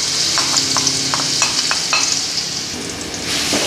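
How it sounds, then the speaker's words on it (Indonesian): Ground spice paste sizzles and fries in hot oil in a wok, a loud, steady crackling hiss with intermittent stirring scrapes, close and continuous, no talking. "kalau minyak sudah panas, langsung aja kita masukkan si bumbu halusnya."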